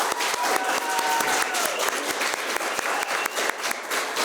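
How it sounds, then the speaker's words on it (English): A room full of people applauds contestants at a college speech contest, with dense, lively clapping and distinct sharp claps standing out near the front, steady and loud for several seconds with no talking. "let's give our contestants a round of applause."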